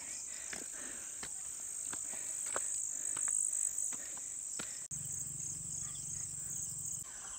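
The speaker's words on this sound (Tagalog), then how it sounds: "narinig nyo na yung mga kuliglig sa paligid" Crickets chirp in the provincial countryside around a hut's terrace, a steady high shrill trill with scattered clicks, faint and continuous, joined near the end by a low hum.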